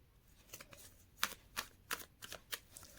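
A deck of tarot cards is shuffled for a reading: a quick series of crisp riffling bursts, close and fairly quiet, with no speech.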